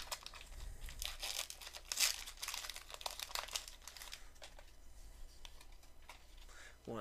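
A Pokémon Crimson Invasion booster pack wrapper is crinkled and torn open up close, with a run of sharp crackling rips and crumpling foil sounds, loud at first and then settling into lighter rustling.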